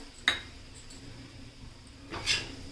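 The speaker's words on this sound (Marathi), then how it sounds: "आता शेंगदाण्याचं कूटसुद्धा आपण यामध्ये मस्तपैकी असं मिक्स करून घेऊयात" A spatula mixes crushed peanuts into a cluster bean stir-fry on a tawa, with two sharp metallic clinks and scrapes spaced about two seconds apart over a quiet background.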